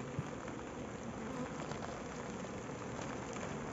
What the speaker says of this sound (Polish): jak widzicie trochę pada